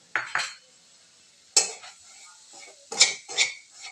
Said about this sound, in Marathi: त्याच्यामध्ये आपण शंभर ग्राम जे रवा घेतलेला आहे तो आपण चांगला भाजून घेऊया